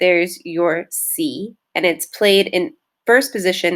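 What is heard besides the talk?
None of the usual background noises is heard.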